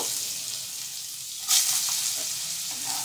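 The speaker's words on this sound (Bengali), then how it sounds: "আলুটা আমি 1 মিনিট মতো আগে ভেজে নেব।" Potatoes fry with panch phoron in a little oil, giving a steady, fairly soft sizzle with a brief louder burst midway as they are stirred in the pan.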